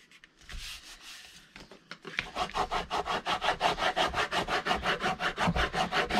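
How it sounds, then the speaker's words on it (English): A glued journal hard cover is burnished firmly by hand, producing a steady, fast series of close scraping rub strokes. Each stroke is distinct and evenly spaced, and they grow more regular after a brief quieter start. "Again, we're just burnishing the heck out of this to make sure it's nice and secure."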